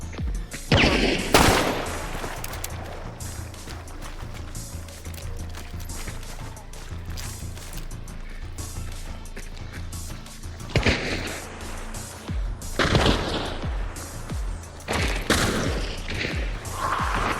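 Gunfire from the opposing team in a video game comes as bursts of rapid, sharp shots, some loud and close, others sparser and mixed with mechanical clatter, separated by stretches of quieter game noise.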